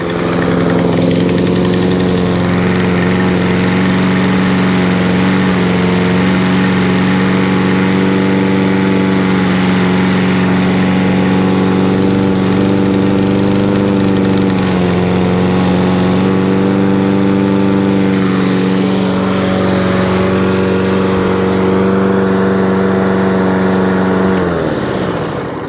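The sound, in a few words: scrap lawn mower engine running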